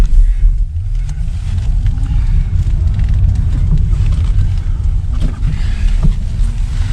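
A Fiat 126P converted to electric power on lithium batteries, driving with a loud, steady low rumble. The road and motor noise stays close and constant as the driver shifts gears.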